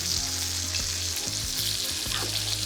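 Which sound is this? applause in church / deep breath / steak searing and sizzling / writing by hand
steak searing and sizzling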